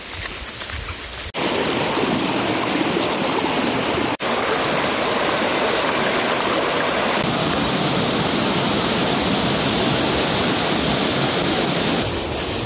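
A jungle trail waterfall and stream near the Noykata falls in Bilaichhari, Rangamati, roar as a steady, loud broadband rush of water after a brief quieter start, continuous and close with no voices.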